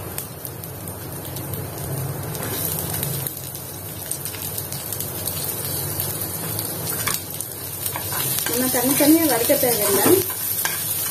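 Garlic and onion frying together with lentils in a pan give a steady close sizzle with stirring, and a voice speaks briefly over it near the end.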